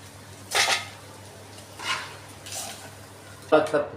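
Metal utensils clatter against a pan as browned paneer is lifted out, a few separate scrapes and clinks spaced across a quiet kitchen, the last one sharper and louder.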